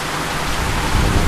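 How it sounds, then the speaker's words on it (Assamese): Heavy rain pouring down, a dense, loud, continuous hiss of rainfall close by, with no other sound standing out. "তামাম বৰষুণ দি আছে তামাম গুল্লি বৰষুণ দিছে"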